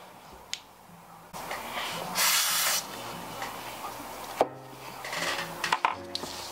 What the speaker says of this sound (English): Brake clean, pressurized brake clean.